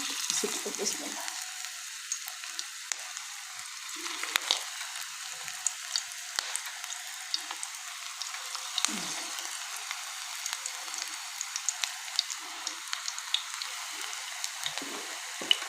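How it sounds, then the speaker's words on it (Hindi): Paper bread kababs frying in hot oil, a steady high crackling sizzle with scattered sharp pops, close and continuous with no voices. "पेपर ब्रेड के कबाब तलने के लिए हमने ऑयल गरम कर लिया है। अब इसमें हम एहतियात से एक एक कबाब डालेंगे"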